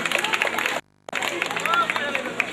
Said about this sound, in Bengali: আমরা সবাই করতালির মাধ্যমে তাদের অভিনন্দন জানাবো